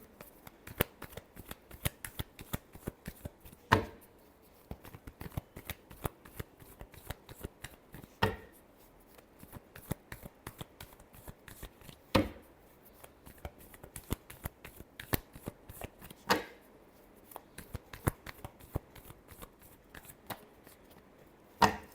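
Tarot cards being shuffled by hand in a quiet room, a dense run of soft riffling flicks broken by sharper snapping bursts every few seconds, close and alone with no talk.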